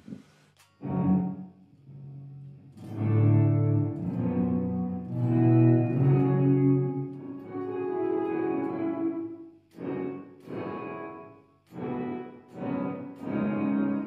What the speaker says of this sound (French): ça fait une reverb que tu peux mettre fort